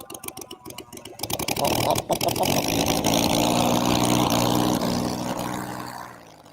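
A small RC model engine sputters through a few choppy firing bursts, catches, and settles into a loud, steady buzzing idle before tapering off.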